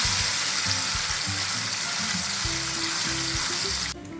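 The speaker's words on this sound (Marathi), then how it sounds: "छान फोडणी तडतडली आहे" Steady sizzling and crackling of spices frying in hot oil, close and loud throughout, ending with a brief clatter.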